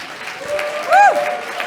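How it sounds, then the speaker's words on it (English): A breakout session audience claps briefly, a soft patter of applause with a voice exclaiming briefly over it in the middle. "can we clap it up for this one?"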